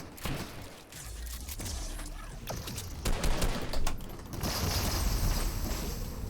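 Rapid bursts of gunfire from a Fortnite match, loud and repeated across the clip in dense volleys with no voices over them.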